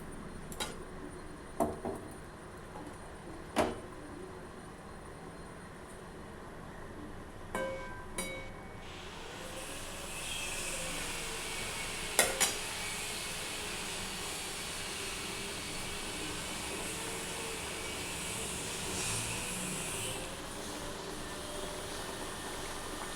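Fried fish pieces go into a simmering mustard gravy in a home kitchen. A few sharp clinks and taps come first, then a soft, steady bubbling hiss swells and holds underneath.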